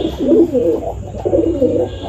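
Gola Madrasi pigeons coo in repeated rolling phrases, close and fairly loud, with two clear bursts of throaty cooing and no talk.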